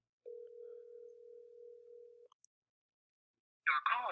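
A single long steady phone ringback tone while placing a call, sustained for about two seconds, followed by a short pause and then a recorded voice beginning.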